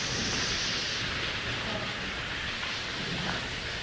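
Heavy rain pours steadily at an abandoned prison, a loud, unbroken hiss with no pauses, with a faint low rumble beneath it.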